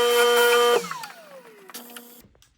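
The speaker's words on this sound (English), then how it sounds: "brush mounted on my flex shaft and get down in that seam and see if I can't get a good polish on that seam" Flex shaft rotary brush polishing the seam of a sized ring, a whining motor tone that drops in pitch as it spins down, with light clicks and handling noises as it stops.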